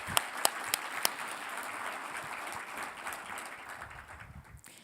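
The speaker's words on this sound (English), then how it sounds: "Let's give them all a big applause." An audience at a conference applauds veterans, a few sharp early claps swelling into sustained, fairly faint applause from a moderately distant crowd.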